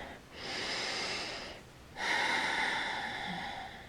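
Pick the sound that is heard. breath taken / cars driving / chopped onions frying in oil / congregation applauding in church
breath taken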